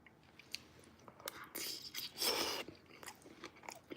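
Someone chewing steak bites with rice close to the mic, soft moist crunching and biting in uneven bursts, fairly quiet and with no talking.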